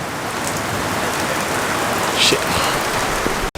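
Heavy rain pours steadily on a street during a thunderstorm, a dense, continuous hiss close by, with a brief spoken exclamation over it.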